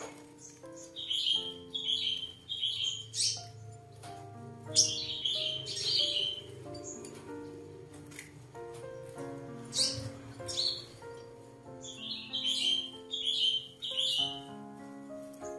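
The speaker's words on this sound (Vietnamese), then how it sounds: "đây mình còn con 5 màu bụng trắng cắm hạt này" Caged white-bellied five-colour sunbirds give bright, high chirps and short twittering bursts in scattered clusters, heard close over a background of layered music.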